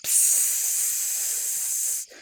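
A Russell's viper, rescued from a house yard at night, lets out one loud, sustained hiss lasting about two seconds, close and harsh like a pressure cooker whistle, before it abruptly stops.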